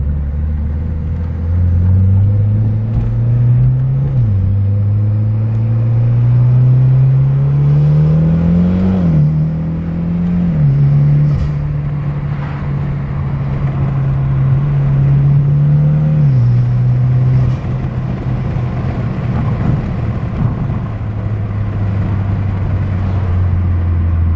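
A Mitsubishi Lancer Evolution X drives and accelerates through its gears, the engine note climbing and dropping at each shift, a loud, close rumble carrying on steadily with no voices.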